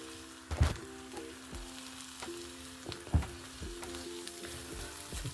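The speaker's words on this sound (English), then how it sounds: "I'm going to put the onions and peppers and mushrooms in just to fry off a little bit" Onions, peppers and mushrooms fry in a pan for an omelette, giving a quiet steady sizzle broken by a few sharp knocks and clanks of stirring.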